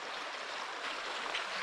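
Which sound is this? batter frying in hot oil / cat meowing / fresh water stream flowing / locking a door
fresh water stream flowing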